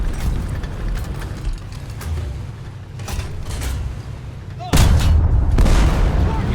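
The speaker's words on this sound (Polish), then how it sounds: "Ale wybuch." Heavy tank cannon fire and explosions in War Thunder, including an M4A1 (76) W Sherman, with several sharp blasts over a rumbling engine. The loudest boom lands near the end.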